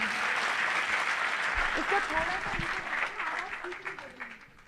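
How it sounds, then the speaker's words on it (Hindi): An audience claps steadily at a talk, the applause dense and sustained throughout, with a voice and other voices faintly audible underneath. "यदि आप लोगों को आनंद आ रहा है तो एक बार मुझे ताली बजा करके आदेशित करें"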